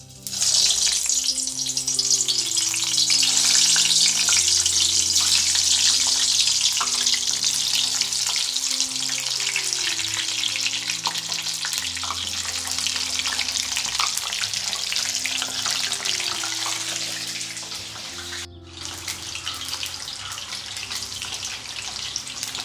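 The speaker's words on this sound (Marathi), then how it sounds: "तेल तापलं आहे आपलं. तर आता आपण त्याच्यामध्ये एक एक करून वांगे सोडूया." Eggplants frying in hot oil in a home kitchen for a masala vangi dish: a loud, steady, close sizzle running nearly throughout over background music, dipping briefly near the end.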